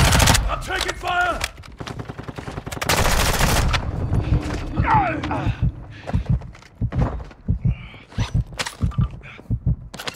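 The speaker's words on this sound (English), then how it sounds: "I'm taking fire." Bursts of gunfire aimed at the player in a shooter game, loud rapid automatic volleys early on followed by sparser sharp shots and thuds, with a voice talking in between.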